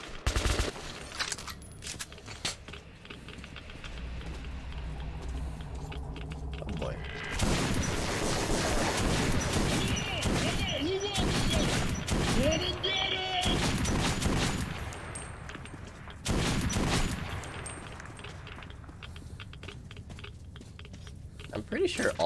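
Gunfire in Metro 2033, quiet bursts at first, then a long stretch of heavy rapid shooting with clattering mechanical noise, with someone talking over the shots at intervals.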